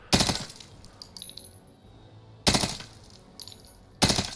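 Three sharp bursts from a KSP burst rifle in Warzone, evenly spaced about two seconds apart, each a loud tight cluster of shots with faint metallic casing clinks ringing after the first two.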